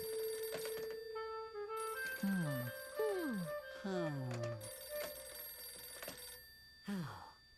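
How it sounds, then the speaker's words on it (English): A telephone rings in a cartoon scene, its repeated electronic ring tones sounding close and clear among sliding musical notes and sound effects, with no speech. "Please excuse me while I answer my phone."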